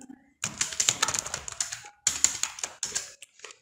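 Rapid keystrokes on a computer keyboard while entering code for an app layout, two bursts of close, crisp clicking with a short pause between them, heard alone without any talking.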